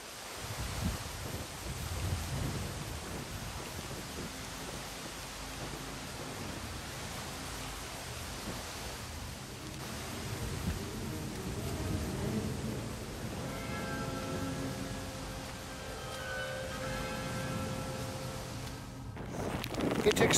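Wind-driven horizontal rain sweeping across a Cornwall headland near Padstow, a continuous roar of gusting wind buffeting the microphone with rain hiss mixed in, swelling and easing slightly before a short fumbling noise near the end.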